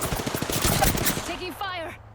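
Gunfire in the Apex Legends video game, a rapid burst of automatic shots close up lasting about a second, followed by brief electronic tones as the burst stops.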